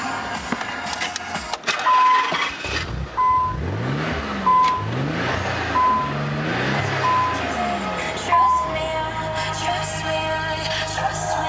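A 1990 Nissan 300ZX twin turbo with an aftermarket exhaust cranking and catching, then settling into a deep, loud idle with rhythmic swells, heard up close alongside a repeating electronic chime.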